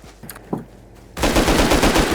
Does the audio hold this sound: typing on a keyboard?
no